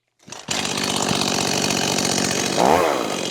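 A chainsaw engine starts up and runs steadily at close range, then revs louder near the end, a harsh buzzing drone throughout.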